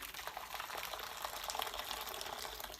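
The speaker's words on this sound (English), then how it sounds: "I boiled the water, so I'm gonna put it in here." Freshly boiled water poured into a tea pitcher, a continuous bright splashing, bubbling stream of liquid that stays steady for the whole stretch, with no talking.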